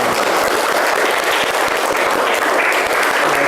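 A room full of people claps together in dense, steady applause, loud and continuous for the whole stretch.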